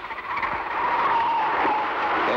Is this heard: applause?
no